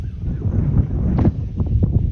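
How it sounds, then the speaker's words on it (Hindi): Wind blows steadily outdoors as a continuous low, broadband rumble buffeting the microphone, with a few faint knocks and rustles over two seconds. "इधर देखो कितना अच्छी हवा चल रहा है"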